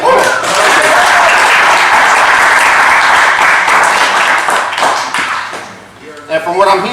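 A large audience at a college achievers event applauds and cheers continuously, a dense wash of clapping and whoops that holds steady for several seconds before thinning out as a voice begins speaking at the end.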